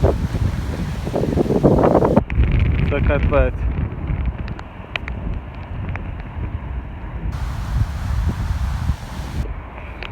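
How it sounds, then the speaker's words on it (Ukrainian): Strong wind roaring and buffeting the microphone outdoors during a storm in Kyiv, with rain on and off, rustling and rushing noise throughout and a person speaking briefly at the start. "Вітер, е, чесно кажучи, дуже сильний, дощ то йде, то немає."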